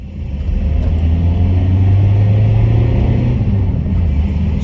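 A VW T6 Transporter engine fitted with an induction kit drones loudly and steadily on a test drive, a deep low rumble holding for several seconds with a slight rise and easing.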